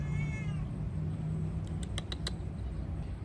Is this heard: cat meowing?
yes